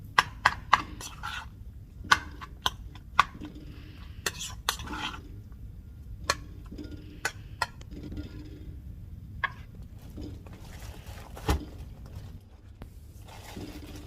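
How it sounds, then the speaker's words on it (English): Fork clinks and scrapes against a bowl while avocado is mashed for toast: sharp, irregular taps and scraping strokes, close and fairly quiet, with no talking. "Mash it nicely."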